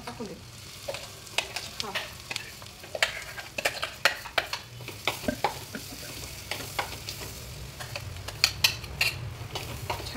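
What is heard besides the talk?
masala frying and being stirred for mutton rassa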